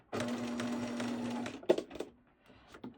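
A sewing machine stitches buttons onto a baby boy's outfit, running in one steady whirring burst of over a second, then stopping with a few clunks and light handling clicks.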